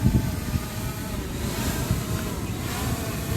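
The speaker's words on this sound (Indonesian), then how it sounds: "Tapi ini anginnya di sini lumayan kencang" Strong outdoor wind roars and buffets the microphone in uneven gusts while an SJRC F11 Pro 4K drone is flown, a continuous rough rush with no clear voices.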